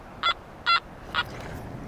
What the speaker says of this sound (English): Sometimes the signals are chirpy.